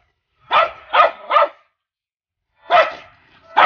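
A dog barks near a duplex house in Karasana Estate, Abuja: three quick loud barks in a row, a pause, then two more, clear and close with no talk over them.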